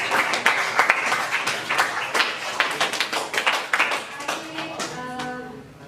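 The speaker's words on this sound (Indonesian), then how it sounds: "Aplaus dulu untuk kelompok 4" A classroom group claps for the fourth team after their presentation, a lively burst of many hands slapping together that peaks early and then thins out into a few scattered claps as a voice begins speaking.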